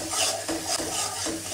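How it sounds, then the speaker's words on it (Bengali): Salt, turmeric, chili powder and green chilies are stirred and fried in a pan for a fish curry, giving a soft rasping scrape and low sizzle that repeats in a loose rhythm, fairly quiet and close. "এখন এগুলো সব ভালো করে কষিয়ে নিব।"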